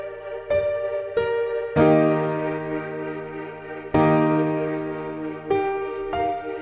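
Piano melody for an up-tempo R&B beat, played with a tremolo effect: sustained chords struck about six times at an uneven rhythm, each ringing and slowly decaying, clear and alone with no talking.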